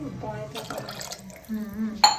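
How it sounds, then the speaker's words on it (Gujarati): Water pours and splashes into rice inside a pressure cooker in a home kitchen, a short close liquid fill with voices talking over it. "અઢી અઢી ગ્લાસ જેટલું પાણી નાખ્યું હશે"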